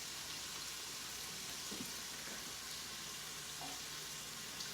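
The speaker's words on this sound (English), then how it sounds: "as that's stir frying" Food stir-fries in a pan with a steady, faint sizzle and a few soft scrapes of stirring, while a pot of water boils in the background of a home kitchen.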